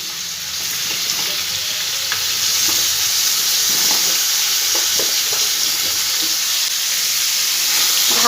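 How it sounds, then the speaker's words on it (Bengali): Pumpkin pieces frying in a hot pan for a vegetarian pumpkin, potato and stem dish: a steady close sizzle that builds slightly, with intermittent stirring scrapes. "এবার এর মধ্যে কুমড়োগুলো আমি সব দিয়ে দেবো।"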